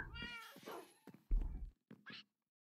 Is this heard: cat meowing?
yes